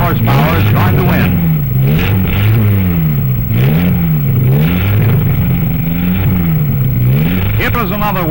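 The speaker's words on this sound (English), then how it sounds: "This little Italian Siata with its 26-horsepower Crosley engine, carburetor adjustment." A little Italian Siata race car with a 26-horsepower Crosley engine revs loudly and steadily at an ice race, its pitch rising and falling in repeated cycles, with a commentator talking over it.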